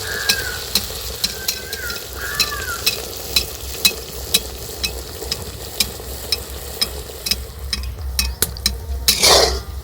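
A ladle of jaggery batter for gur poa pitha fries in hot oil, a continuous close sizzle broken by regular metallic ladle taps and clinks against the pan, with a louder scrape near the end.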